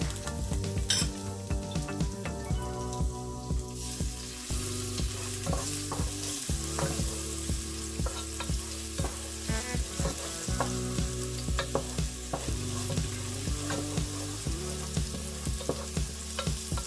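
Liver and kidney sizzle steadily in a hot pan as a spoon stirs and scrapes through them, a close, continuous frying hiss with irregular metallic clinks, set against background music and no talk.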